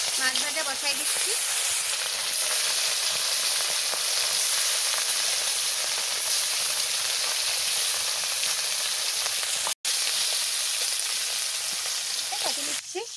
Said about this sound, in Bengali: তেল গরম হয়ে গেছে, মাছ ভাজা বসাই দিচ্ছি।